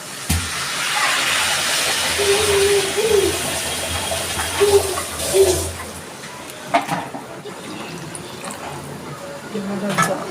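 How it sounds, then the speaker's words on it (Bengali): Water poured into a pan of frying chana masala, a broad rushing, bubbling wash for about six seconds that then settles into quieter sizzling with a few knocks. "আমার কষানো হয়ে গেছে আমি এবার জল ঢেলে দিচ্ছি"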